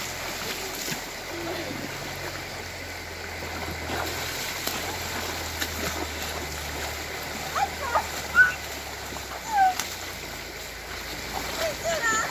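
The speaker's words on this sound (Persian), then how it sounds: "عجب آب روان و پاک و تمیز و زلالیه." Clear water flowing in a natural stream near the village of Zavi Olia, a steady soft rushing wash with occasional small splashes from children playing in it, heard fairly close throughout.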